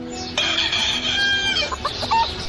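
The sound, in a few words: chicken clucking and rooster crowing sound effect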